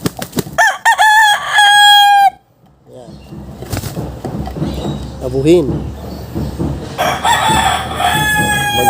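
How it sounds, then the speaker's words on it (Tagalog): A very large rooster crows loudly and close by, one long ringing call at the start and another near the end, with someone talking between and over the crows. "Napakalaking manok"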